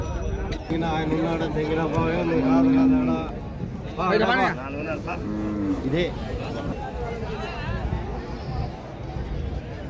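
Cows moo loudly at a busy Saturday cattle market in Pebbair, several long calls rising above constant crowd chatter and someone talking nearby.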